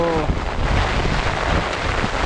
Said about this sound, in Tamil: திடீரென்று மழையும் காற்றும் அடிக்குது